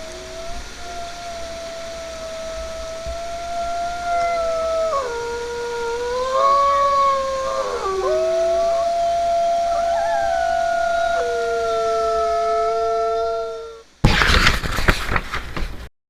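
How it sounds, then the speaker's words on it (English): Distant howls from a pack of fox wolves, a pack-hunting wolf species, heard at sunset: long overlapping wailing tones rising and falling in pitch, steady and continuous for about fourteen seconds before a sudden loud burst of noise cuts in. "you began to hear the sound of faraway wolves howling in the distance"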